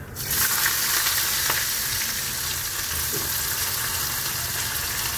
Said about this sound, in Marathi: जिरे आणि मोहरी तडकायला ठेवलं आहे